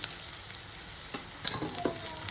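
Bread pakoda filled with onion and potato shallow-fries in a pan over low heat, giving a quiet, even sizzle with a few soft scrapes and taps near the end and no talking.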